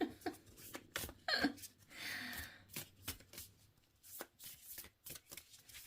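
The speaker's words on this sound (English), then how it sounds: "I'm just trying to mix up the cards here now" A Seer See Oracle card deck shuffled overhand: a run of quick papery riffling bursts and soft slaps, close and fairly quiet, with short pauses between passes.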